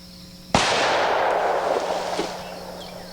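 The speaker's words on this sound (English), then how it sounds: "That gives a better explosion anyway." A single sharp 460 Rowland gunshot blows apart a water bottle at an outdoor range, a loud near crack followed by a long reverberating boom that slowly fades.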